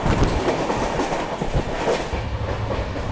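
A Rajdhani Express runs at speed beside a local train, with a steady loud roar of wheels and rolling stock and rhythmic clickety-clack over the rails throughout.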